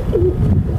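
Close, soft cooing of high-flyer pigeons, a low throaty warble repeating in quick rolling phrases, loud and clear with no talking.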